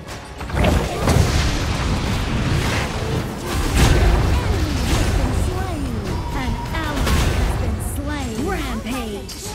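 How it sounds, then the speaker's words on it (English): A turret being destroyed in a video game, a burst of booming explosion impacts and crashes followed by chirping, warbling game effects, loud and close throughout. "Your team has destroyed a turret."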